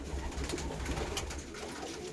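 Old flying pigeons in a fancier's loft coo steadily and softly throughout, with low murmuring calls overlapping one another and no talking.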